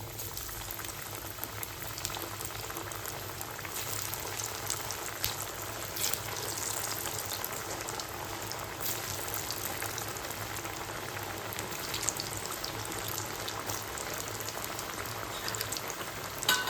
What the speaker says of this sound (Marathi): जेवढ्या त्याच्यात बसतील तेवढ्या वड्या आपल्याला तेलामध्ये सोडायच्या आहेत